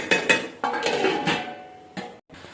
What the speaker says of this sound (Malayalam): ഇനി 10 നിമിഷത്തിൽ മൂടി വയ്ക്കാം.